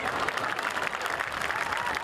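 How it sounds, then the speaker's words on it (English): A crowd at a high school football ceremony (Bluffton Bobcats at Hilton Head Seahawks, Bridge Bowl) applauds its inductees, a steady, dense wash of clapping that holds evenly throughout with some voices mixed in. "Please give our inductees one more round of applause."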